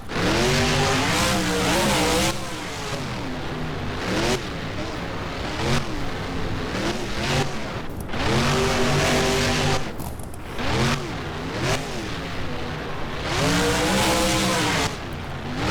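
Monster truck engines roar and rev in the BeamNG video game, loud repeated surges of acceleration rising and falling in pitch, with bursts of tire noise as the trucks race and slam over dirt mounds.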